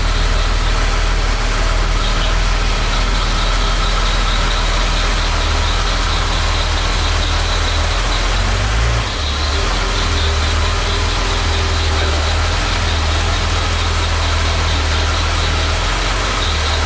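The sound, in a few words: repaired car engine idling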